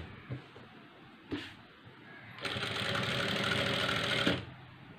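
A sewing machine stitches the front and back pieces of a blouse together, running in one steady, loud burst of rapid mechanical chatter for about two seconds after a few soft handling clicks.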